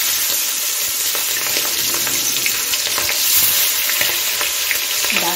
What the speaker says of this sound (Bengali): আমি একটা কড়াইতে সর্ষের তেল দিয়ে গরম করে নিয়েছি। এখন আমি মাছগুলো ভেজে নেব।